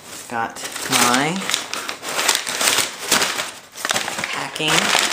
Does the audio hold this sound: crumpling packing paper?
yes